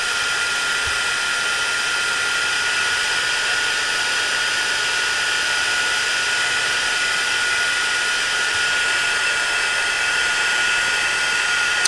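Steady, loud whooshing roar of an embossing heat gun blowing hot air on a mixed media plate, running continuously and unbroken close up with no talk.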